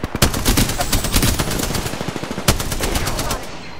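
Automatic weapon fire in the video game Apex Legends, loud rapid bursts of shots in dense rattling volleys, with a sharp single crack partway through before the fire tails off.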